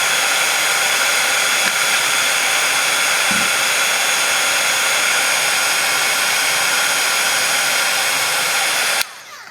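A heat tool blows steadily and loudly while drying distress paint and setting ink on paper, a continuous even whoosh that cuts off abruptly near the end.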